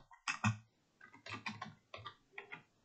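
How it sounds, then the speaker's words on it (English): Keys tapped on a computer keyboard while entering a command in a command prompt window, heard as short bursts of clicks separated by brief pauses, close and fairly quiet, with no talking. "Let's open command prompt and type pip install"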